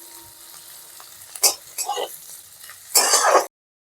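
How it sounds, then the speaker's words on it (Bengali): Onions fry in a pan for a bitter gourd, potato and eggplant curry, a low sizzle punctuated by a few loud scraping stirs near the microphone before the sound stops dead. "পেঁয়াজটা ভাজা ভাজা হয়ে এসছে"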